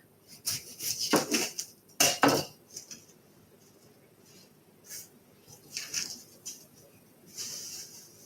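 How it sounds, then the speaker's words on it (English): A knife dices an onion on a cutting board in a kitchen, producing scattered bursts of quick, close chopping taps separated by quiet pauses. "That'll give us an opportunity to get this onion diced up."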